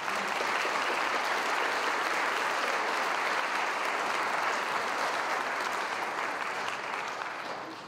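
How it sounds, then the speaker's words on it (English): An audience at a high school choir concert held in a Baptist church gives sustained, full applause, a dense wash of clapping that stays even and tapers slightly at the end. "So let's give them a round of applause, thank you."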